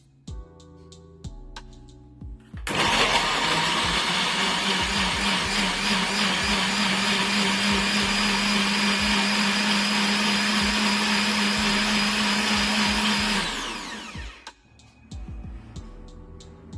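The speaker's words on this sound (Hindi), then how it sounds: "इन सबको आप पीस लेंगे" An electric grinder whirs loudly through garlic and other ingredients with yogurt for chicken shorba, a steady motor roar for about ten seconds that winds down, with faint clicks before and after.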